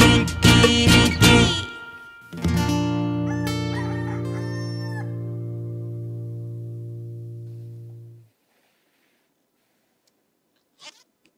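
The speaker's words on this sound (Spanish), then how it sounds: "El gallo pinto no cantó el kikiriki." A rooster crows in a children's Spanish learning program, one loud near call after some busy noise, with a long sustained tone that fades out into silence.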